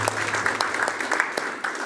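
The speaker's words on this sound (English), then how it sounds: "Can we give them a huge round of applause?" A school board meeting audience claps steadily for student leaders, a brief burst of dense applause that stays at an even level throughout.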